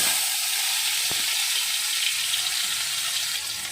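Food sizzles and fries steadily in a burnt kadai pan during home cooking, a continuous close hiss with no talking.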